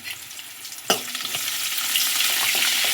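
Green chillies, onion and curry leaves hit hot oil with a sudden sharp crackle, then settle into a loud, steady sizzle that builds and stays dense, with a few stirring knocks and no voices.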